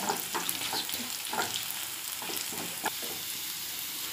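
Shallots frying in hot oil with spluttering mustard seeds for a prawn curry tempering: a steady, close sizzle with scattered crackles and pops throughout, and no voices.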